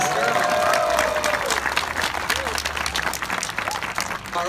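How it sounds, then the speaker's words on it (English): An audience at a SeaWorld killer whale show breaks into a dense round of applause and clapping. The crowd sound is moderately loud and sustained, and a trainer's amplified voice talks over it. "I want to hear a big round of applause when she pops her head back up out of the water"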